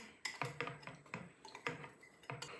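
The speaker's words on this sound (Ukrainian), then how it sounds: "Гарненько перемішуємо." Soft, rhythmic clinks of a spoon scraping and tapping inside a bowl while stirring a hot chocolate mixture, about a dozen quiet strokes with no talking.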